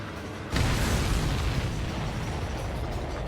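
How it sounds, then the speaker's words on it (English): A missile hits a supply ship in Ace Combat 7: Skies Unknown. A sudden loud blast erupts after half a second and rolls into a long, heavy roaring rumble that stays strong to the end, with no talk. "Did you see that explosion? Looks like that's one of them down."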